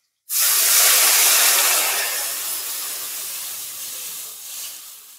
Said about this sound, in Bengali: জলটা টকবক করে ফুটছে